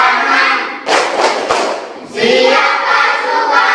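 Children clapping their hands in a classroom along to a song, loud bursts of claps and thumps mixed with group singing, coming in two bunched rounds.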